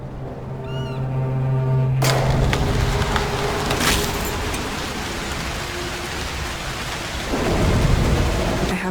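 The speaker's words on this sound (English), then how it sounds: "A storm could help." Video game thunderstorm: a sharp, loud thunderclap breaks in and rolls on, then heavy rain hisses continuously on surfaces, with a second swell of rumbling thunder near the end.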